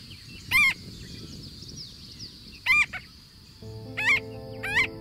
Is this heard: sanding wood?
no